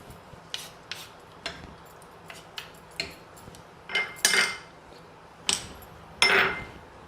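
A metal spoon stirs a salted millet and rice pulao mixture inside a pressure cooker, giving sharp clinks and scrapes against the pot. The strikes are irregular, several softer taps, then a few louder knocks close by.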